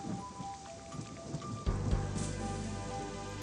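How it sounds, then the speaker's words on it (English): Rain in the video game Little Big Adventure, a steady hiss of falling water joined midway by a sudden deep rumble, with game music tones playing faintly behind it. "Oh, it's raining."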